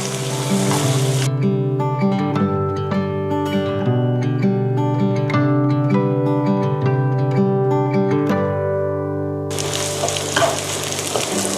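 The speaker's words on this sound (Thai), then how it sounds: "ผัดให้กระเทียมหอมนะคะ" Minced garlic sizzles loudly in a hot pan while stir-frying, at the start and end, with music playing through the middle.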